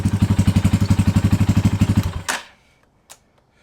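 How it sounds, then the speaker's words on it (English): A Kayo 230 T4 dirt bike engine, warmed up after a first start, idles at about 1500 RPM with a fast, steady putter of even thumps, close and loud, then cuts out, leaving a couple of faint clicks and knocks. "the bike's idling at 1500 RPMs perfectly"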